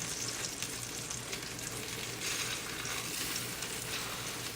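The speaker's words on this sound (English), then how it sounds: "We want this to fry long enough for the cheese to melt" A quesadilla fries in a pan with a steady, even hiss of sizzling oil that continues without a break, with no talking.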